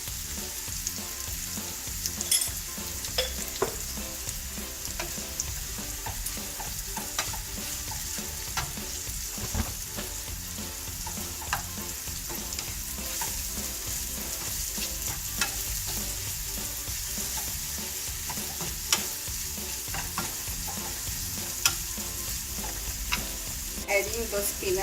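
Poha ingredients with turmeric powder frying in a pan, a soft steady sizzle with occasional spoon taps and scrapes while stirring, no one speaking.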